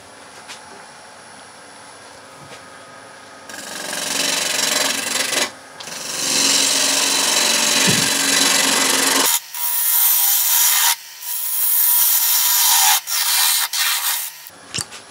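A woodturning gouge making finishing cuts on a spinning wooden open vase on a lathe, giving a steady rasping scrape that cuts in and out in several long bursts, close and fairly loud.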